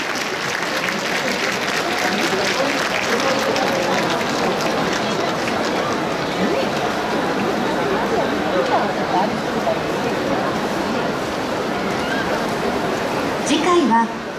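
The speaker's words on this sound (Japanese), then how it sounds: "大きな拍手をお送りください。" A large indoor arena crowd at a Tokyo hometown festival applauds a troupe of Morioka Sansa dancers, continuous dense clapping that stays loud and even for the whole stretch.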